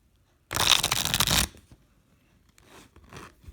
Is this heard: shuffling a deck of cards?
yes